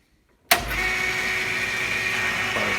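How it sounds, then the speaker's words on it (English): A metal lathe in an amateur workshop switches on with a sharp start and then spins at a steady, loud, continuous hum with a faint whine, alone with no talking. "we're going to turn on the lathe"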